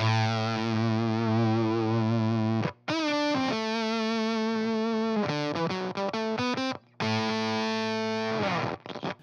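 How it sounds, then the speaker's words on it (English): Electric guitar through a fuzz pedal with its bias knob set for a gated, sputtering dying-battery tone; loud sustained distorted notes and chords that cut off abruptly into silence and choppy, gated bursts. "You can adjust the bias and get it to sound really gated, like a, you know, like the old dying battery in the fuzz kind of vibe"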